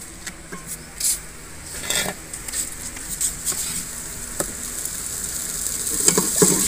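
Ghee heats in a pan, giving a steady high sizzle with scattered crackles and occasional clinks of stirring, close and moderately loud with no voices.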